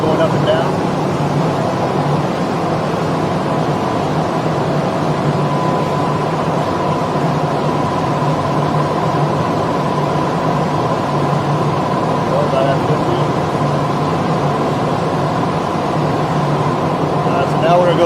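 A fire engine pump runs loud and steady while being primed, with air still in the pump, giving a continuous deep mechanical drone as someone talks over it.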